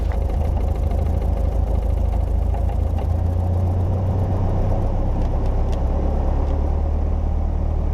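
A small aircraft's piston engine idles on the ground before a flight, producing a steady, close, low rumbling drone that holds even for the whole stretch with no speech over it.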